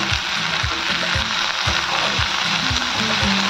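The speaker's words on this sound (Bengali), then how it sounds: "এবার হাই ফ্লেম দিয়ে এটাকে আমি ভাজবো।" Okra pieces fry in a hot pan over a high flame, a steady dense sizzle running throughout with soft periodic stirring knocks underneath, close and fairly loud.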